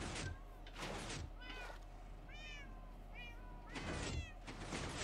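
Several cats meow in a Minecraft multiplayer server game, with repeated short rising and falling meows overlapping near and far, broken by a few soft whooshing bursts.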